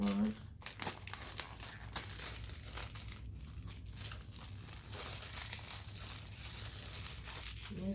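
Crinkly plastic wrapping on a manga-style tarot card deck being pulled and torn open, a continuous close-up crackle with sharper rips throughout, while a voice talks at times.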